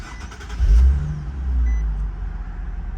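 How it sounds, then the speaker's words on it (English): A 2012 Nissan 370Z is switched back on, giving a low engine rumble that surges briefly, then settles into a steady idle, close by. "I have to actually turn it back on for it to read the miles."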